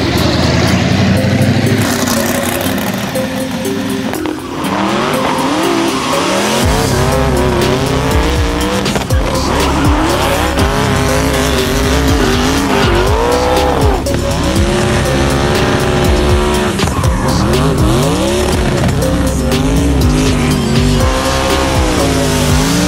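A Hoonicorn Ford Mustang race car screams through loud, sustained engine revs with repeated gear-shift dips and squealing tires, close and continuous for over twenty seconds.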